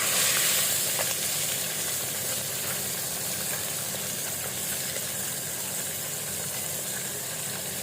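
Fish frying in oil gives off a steady, dense sizzle that holds an even loudness throughout, close and continuous, with no voices.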